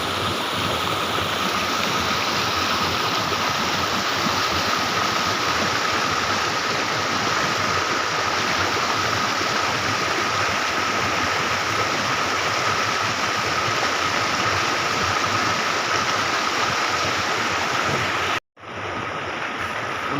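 A waterfall swollen by heavy rain pours down its drop in a loud, steady roar that stays continuous and close, broken only by a brief cut near the end.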